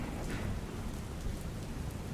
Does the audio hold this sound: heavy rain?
yes